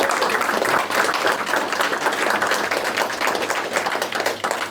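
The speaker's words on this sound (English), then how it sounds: "A little round of applause for Mini Spares and their 50th anniversary" Crowd at a Brands Hatch Mini race event giving a steady round of applause for a sponsor, dense continuous clapping throughout at a fairly loud, even level.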